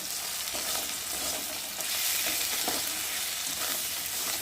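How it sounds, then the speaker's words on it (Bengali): A spice paste with tomato, turmeric and salt fries in oil for a fish curry, a dense, even, close sizzle and hiss with faint stirring throughout, no speech. "এবার মশলাটা তেলের মধ্যে ভালো করে কষিয়ে নেব"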